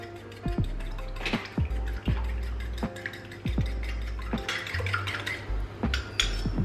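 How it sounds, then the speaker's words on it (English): Two eggs whisked in a bowl while baking mini pumpkin pies, with steady clinking taps of the whisk against the bowl and a wet sloshing, close-up with no talking. "Then you're going to whisk together your 2 eggs."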